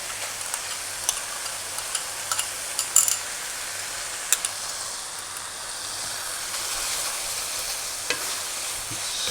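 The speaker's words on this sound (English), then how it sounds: "Stir that up again." Oyster sauce is stirred into a pork omelette filling in a pan, with a soft continuous sizzle and sharp, scattered scrapes and ticks from the utensil against the pan.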